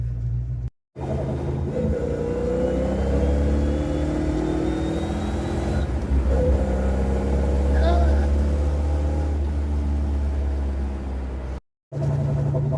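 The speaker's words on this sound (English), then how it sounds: "The lack of distinctive, hard-hitting cam chop with these tailpipes on is annoying at idle." A Fox-body Ford Mustang V8 idles through its exhaust with a low, steady rumble and little cam chop, broken by a couple of brief gaps, with faint whirring and mechanical noise layered above.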